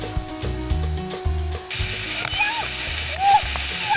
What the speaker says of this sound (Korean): 얼음장 같은 폭포물이